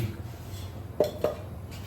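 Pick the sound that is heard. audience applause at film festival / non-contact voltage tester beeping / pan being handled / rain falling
pan being handled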